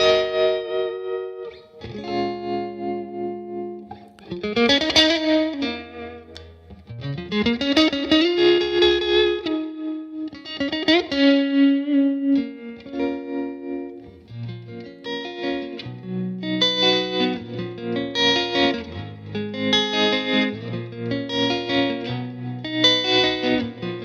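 Electric guitar played through a Bad Cat Black Cat combo amp with reverb, mildly distorted picked notes and chords ringing with bloom and a lingering reverb tail, loud and alone.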